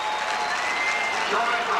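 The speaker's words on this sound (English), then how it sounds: "gets the round of applause as he leaves the playing surface" A high school football crowd applauds at a 1985 state game as an injured player with a hurt right knee leaves the field, a steady patter of clapping under a commentator's voice.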